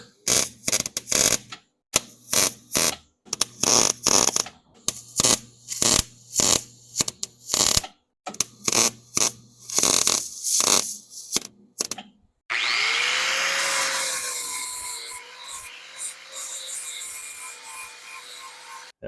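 A power tool cuts out a metal plate for a KLR650 rally tower in bursts of loud, choppy grinding, then gives way to a steady, sustained whir of hissing and buzzing.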